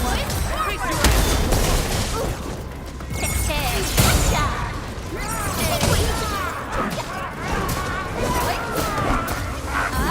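Gunfire and crashing impacts from combat in the video game Arknights Endfield, loud and continuous with bursts and metallic clatter, under game music and a voice speaking.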